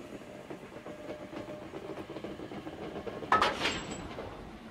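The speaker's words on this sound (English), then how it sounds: "Our locomotive is this magnificent Stania Class 5 460 George Stephenson" Stanier Class 5 steam locomotive 44767 George Stephenson, built at Crewe in 1947, running on the line to Mallaig, a quiet rhythmic rumble with regular clicks from the rails and a sharper brief clatter near the end.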